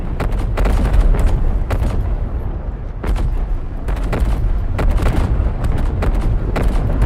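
A gun in the video game Dawn of War 4 keeps firing in repeated loud booming shots, spaced irregularly over a dense rumbling battle background.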